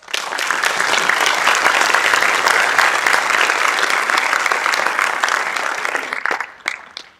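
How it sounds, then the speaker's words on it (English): An audience at a general assembly council meeting breaks into sustained, dense applause for a speaker, building quickly and holding steady before thinning into scattered final claps. "So please give her a big applause."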